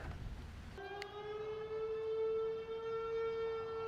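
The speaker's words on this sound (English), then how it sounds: "but a siren is now going off." Outdoor civil defense warning siren starts sounding after a brief stretch of background noise, a steady loud wail with strong harmonics that holds evenly to the end, no talking.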